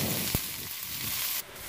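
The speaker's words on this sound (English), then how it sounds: "So in a pan, I've taken some oil. I'll be adding chopped onions, capsicum, and peanuts." Chopped onions, capsicum and peanuts fry in oil in a pan for poha, a steady soft hiss with one sharp clink, fairly quiet and close.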